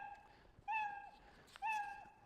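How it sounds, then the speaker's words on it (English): A cartoon cat meow generated by a Scratch program, two clear synthetic meows in a row, each about half a second long, close and bright over a faint background hum. "now I've set the stage to let the cat meow"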